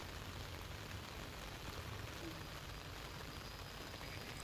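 Steady rain falling on surfaces, a dense, even hiss of drops with no pauses, fairly quiet and continuous throughout.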